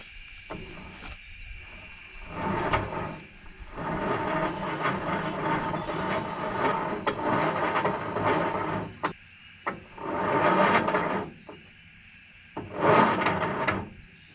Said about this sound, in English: put your winch into free spool and pull all your winch rope out